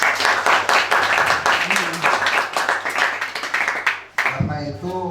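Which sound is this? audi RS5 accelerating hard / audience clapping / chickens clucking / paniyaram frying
audience clapping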